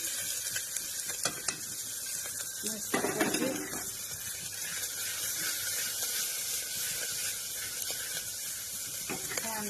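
Cumin, green chilli, onion and garlic dropped into hot oil in a home kitchen, a constant faint sizzle with a brief louder burst and stirring clatter early on, then light scrapes.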